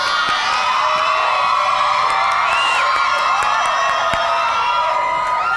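A studio audience at a Thai televised game show screams and cheers as someone comes on stage, a loud, sustained crowd roar with shrill whoops filling the whole stretch without a break.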